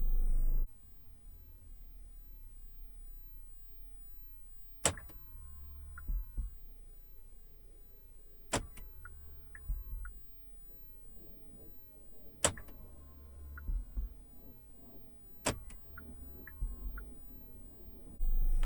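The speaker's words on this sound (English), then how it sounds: "the sound of the door, of the actual locks locking sounds so good" A Kia Stinger's door locks engage in several sharp mechanical clunks spaced a few seconds apart, each followed by a faint electronic chirp, heard close inside a quiet car cabin.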